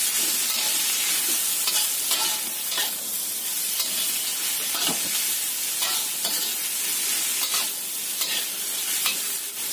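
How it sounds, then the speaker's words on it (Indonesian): Cabbage and mustard greens for kwetiau goreng are stir-fried in a wok, giving a steady hiss and sizzle. A spatula scrapes and tosses them in repeated strokes, close and continuous, with no voices. "Kita tumis sampai sayurannya ini lagi."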